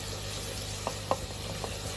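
Whole spices such as nutmeg, black cardamom, green cardamom and cloves frying in oil for boneless handi, a steady soft sizzle with a couple of faint clicks, quiet and close with no voices.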